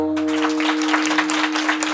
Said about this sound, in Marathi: मोकळ्या टाळ्या वाजव जरा वाजवायच्या असल्या